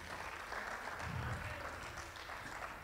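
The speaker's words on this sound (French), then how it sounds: "Est-ce que vous pouvez applaudir le nom du Seigneur?" Church congregation applauding during a French-language service, a steady, faint wash of many hands clapping that sounds distant and soft throughout, with no voices over it.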